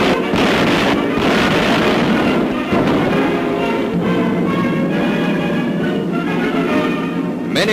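RAF Boston bombers' bombs bursting across docks and harbour installations make a dense, continuous roar of rumbling blasts and crackling detonations, loud and sustained with no pause.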